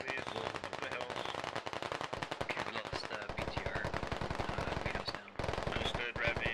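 Sustained machine gun suppressive fire in a tactical military shooter video game, rapid dense bursts rattling nearly nonstop at close range, with a brief pause near the end before the firing resumes, faint voices mixed in.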